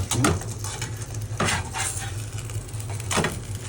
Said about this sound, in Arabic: بحط بقى الحواوشي في الرغيف وبعمله على الطاسه في منتهى الجمال